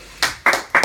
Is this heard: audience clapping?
yes